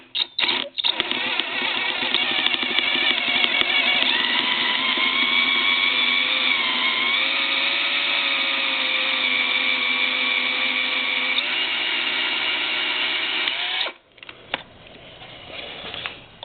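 A power drill bores out a screw head on a Honda CT70/Z50-type small engine case, a steady whining motor hum lasting about thirteen seconds with slight pitch shifts as it bites, then stopping abruptly into quiet handling noise.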